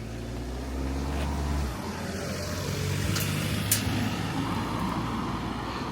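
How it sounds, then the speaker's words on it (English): A car approaches and passes along a quiet island road, its low engine hum and tyre noise rising steadily over a few seconds, with faint rustling outdoors ambience around it. "Oh, here comes a car."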